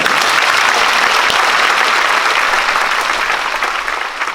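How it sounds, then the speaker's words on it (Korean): Audience applause fills a charity concert hall of Korean art songs, a dense, steady wash of clapping that runs loud throughout and eases slightly at the end. "박수 한번 보내드릴까요?"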